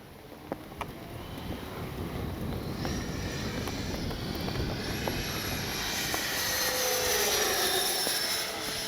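A Freewing 70mm EDF Me 262 radio-controlled jet flies overhead with a steady, rising ducted-fan whine and roar, growing louder as it passes nearby, with no talking.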